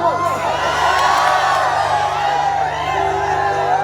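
A crowd shouts, whoops and cheers loudly and continuously, many voices layered together close by with music-like tones underneath.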